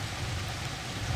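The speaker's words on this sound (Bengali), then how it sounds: "আল্লাহর রহমতের বৃষ্টি।" Steady rain falls at a village home in Bangladesh, a dense, even hiss that stays level for the whole short moment with no voices.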